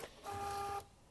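An Epson T20 receipt printer responds to a held feed button with a single short mechanical whir or tone of about half a second, close and moderately loud, without any speech.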